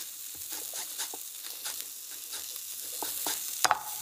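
Lamb loin with ginger, chili salt and lime frying in a hot pan, giving a steady soft sizzle with light crackles, then a pair of sharper clicks near the end as it is handled; no one speaks.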